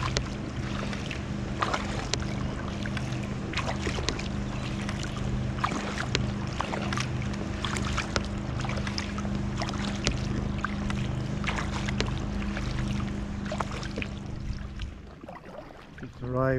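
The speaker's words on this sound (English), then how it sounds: "Fish farm boat's going out." Fish farm boat motoring out across calm morning water off Tobermory, a steady low engine drone at moderate distance with faint water lapping and occasional light knocks, no voices.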